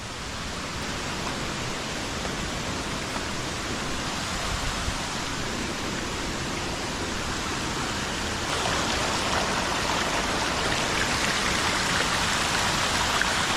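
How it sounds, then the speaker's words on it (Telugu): Water flowing out from under a hill near Rampa waterfalls in Andhra Pradesh, a steady, dense rushing with no pauses, close and fairly loud, swelling slightly in the second half, with no voices. "ఆ కొండ కింద నుంచి వాటర్ వస్తుంది."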